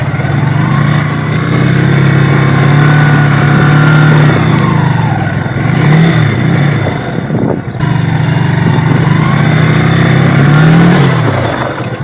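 A motorcycle engine labours steadily while riding over rocky ground on a trail toward Turrialba volcano, loud and close, with a brief dip and repeated small rev surges as the bike picks its way over the stones.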